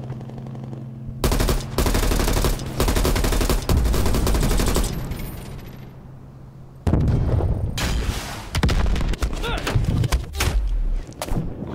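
Enemy gunfire in Call of Duty Black Ops Cold War, with sustained loud automatic bursts and heavy impacts, a brief lull in the middle, then more rapid firing.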